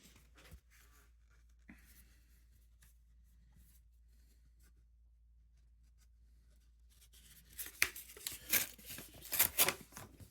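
Paper tears and crinkles close up as a postcard is unwrapped, quiet at first with a few soft rustles, then a dense burst of ripping and crumpling near the end.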